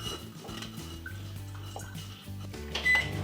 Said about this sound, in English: Microwave for another 30 seconds.